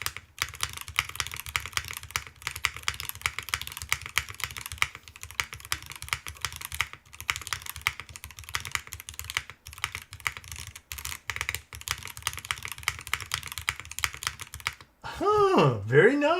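Steady, fast typing on a newly built M9N mechanical keyboard with non-clicky switches, a dense run of close, even keystrokes that briefly gives way to a short whistling sound near the end.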